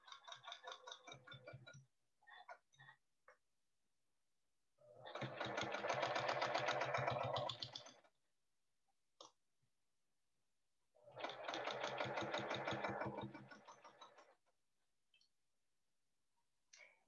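A sewing machine stitches along a quilt block seam in two steady bursts of rapid mechanical chatter of about three seconds each, between them scattered clicks and brief soft handling sounds, close and fairly quiet.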